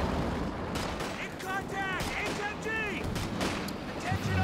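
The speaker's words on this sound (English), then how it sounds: "Major artillery down here" Artillery shells and gunfire boom and crackle in a Company of Heroes 2 World War II battle, with repeated explosive bursts, whistling shell sounds and scattered shots mixed together under a continuous rumble.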